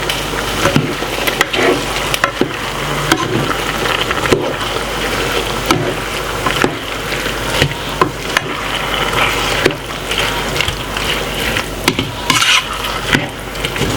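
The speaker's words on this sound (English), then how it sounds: "Give it a stir." Chow mein with sweet chili sauce is stirred as it fries in a pan, giving a loud, continuous sizzle with repeated scraping and clattering strokes, close and without speech.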